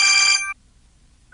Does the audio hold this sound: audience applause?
no